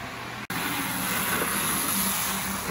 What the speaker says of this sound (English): And here we've got it running at full speed.